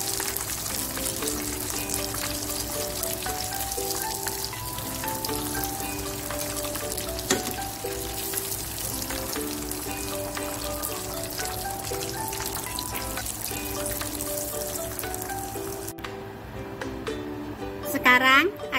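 Battered chicken wings fry in hot oil with a continuous crackling sizzle, with melodic background music playing over it throughout.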